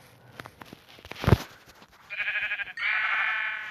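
Two wavering sheep bleats follow a soft thump, close and moderately loud, with a faint background hum, like a game sound effect.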